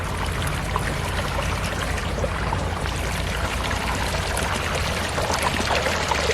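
Water runs steadily from a tap as garlic is rinsed beneath it, a continuous close splashing stream with no talking.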